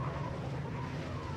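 A small space car drives across Mars in Mass Effect 3, giving a steady low engine hum with rumbling and tire-like noise throughout, continuous and moderately loud with no talk.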